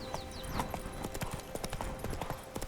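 Horse hooves gallop in Witcher 3's Toussaint region, a quick, rhythmic clip-clop of hoofbeats at moderate volume, with a brief voice over the galloping.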